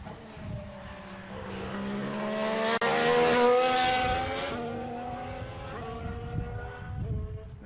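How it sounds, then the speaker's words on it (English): A Caterham Formula 1 car with a Renault turbo engine at the 2014 Bahrain test accelerates past, its high, rising engine note swelling to a peak and then fading steadily into the distance, with no talk. "Maybe you can detect a little bit of turbo lag there on the Caterham"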